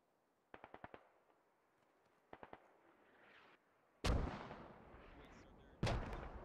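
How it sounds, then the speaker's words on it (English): Harassment gunfire and artillery in Squad: two quick rapid-fire bursts of distant shots, then two heavy, booming artillery impacts that ring out and decay. "We're getting a lot of harassment fire"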